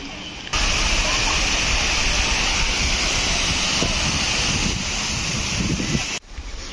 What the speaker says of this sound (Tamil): இதுதாங்க அகஸ்தியர் ஃபால்ஸு.